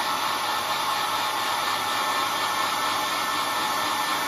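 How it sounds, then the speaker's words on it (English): A hair dryer blows in a steady, loud continuous whoosh, speeding up drying of weathering paint on a lightsaber hilt, with no talk over it. "by using the hairdryer."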